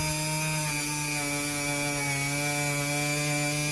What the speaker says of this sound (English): this Dremel's not a very powerful one